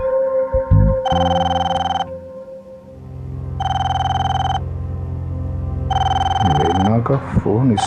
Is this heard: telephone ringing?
yes